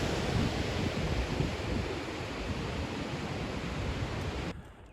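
Small waterfall cascades on the High Sierra Trail rush in a steady, dense wash of water noise, loud and continuous, then drop away sharply near the end.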